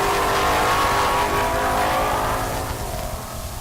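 Mustang drag car accelerating hard off the line at a high-altitude drag strip during a race week event, a loud sustained engine roar that fades slightly as it pulls away.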